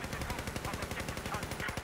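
Rapid automatic gunfire in Battlefield 4, in a fast steady rhythm of sharp shots, continuous and fairly loud, with faint voices underneath.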